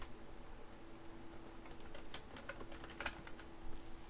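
Quick, light clicks of typing on a computer keyboard, an irregular flurry of keystrokes with a few sharper taps, faint and close in a quiet room.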